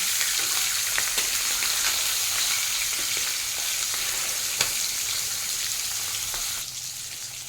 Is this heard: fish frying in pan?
yes